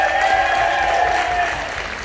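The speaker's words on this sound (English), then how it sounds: "Let's give Nate a big round of applause." A short round of applause from an audience at a music school teachers' event, steady and fairly loud, tapering slightly toward the end.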